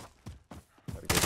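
Gunshots in a first-person shooter video game, four sharp close shots spaced roughly a quarter second apart, followed by a louder burst of fire at the end.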